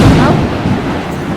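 Thunder from a lightning storm rolls as a loud, continuous low rumble with no break, filling the whole moment.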